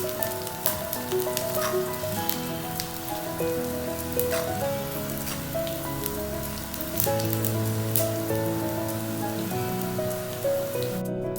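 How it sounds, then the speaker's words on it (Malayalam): Cashews and raisins frying in hot oil for ghee rice, giving a steady, loud crackling sizzle that holds without pause through the whole stretch, with no one talking. "അതിനകത്തേക്ക് അണ്ടിപ്പരിപ്പ് മുന്തിരി ഇട്ട് വറുത്ത് കോരുക."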